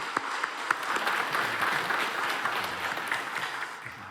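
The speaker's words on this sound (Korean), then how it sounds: "우리 하나님께 영광의 박수 올려드리면서 격려의 박수, 감사의 박수 한번 하겠습니다" A church congregation claps for the Immanuel choir after its praise song, moderately loud sustained applause with some distinct sharp claps standing out near the start, steady before easing slightly at the end.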